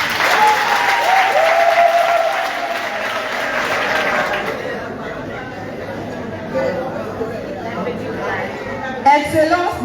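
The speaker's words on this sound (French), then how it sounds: "Applaudissez pour nous." A crowd applauds steadily with cheers and chatter mixed in at a political rally, loud at first and easing off toward the end.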